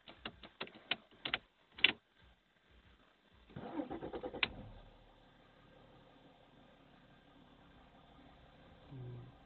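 A car's ignition key rattles and clicks in a rapid run of sharp taps, followed by a brief, rough grinding burst as the engine cranks and starts, then fades to a low, quiet idle.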